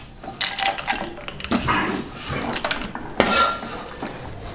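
A spoon scrapes and clatters against a metal pan as fried ginger pieces, dried red chillies and tamarind are moved into a bowl, with irregular close clinks and scraping bursts.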